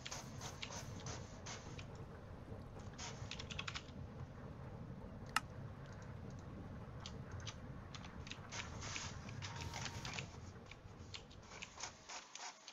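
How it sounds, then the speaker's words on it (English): Home printer running: quiet mechanical clicking and rubbing with intermittent rattling bursts of feeding and printing, close but low in level, with no voices. "If you can hear my printer, I'm so sorry."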